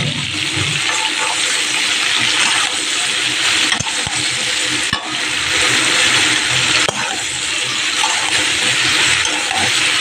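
Rohu fish pieces sizzle in hot oil in a frying pan for a Bengali fish curry, a loud, steady broadband hiss with a few sharp crackles and clinks from a utensil, no voices.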